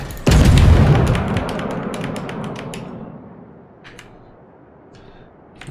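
A warship's main battery fires in World of Warships, one loud deep boom with a long rolling decay, followed by a few faint sharp clicks and ticks and no talking.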